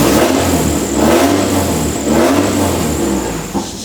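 A Nissan 240SX engine, warmed up with coolant circulating, revs loudly and close by in repeated surges and drops between blips.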